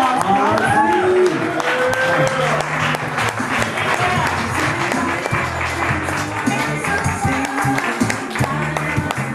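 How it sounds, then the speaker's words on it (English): Audience at a poetry open mic cafe clapping and cheering loudly and steadily throughout, dense applause with crowd voices mixed in. "Give him a big round of applause."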